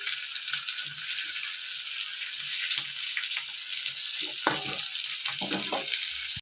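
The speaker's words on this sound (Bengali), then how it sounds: "তাই একটু আলু ভাজছি।" Potatoes fry in a pan with a steady, close sizzle throughout, joined by a few scraping stirs and light clinks near the end.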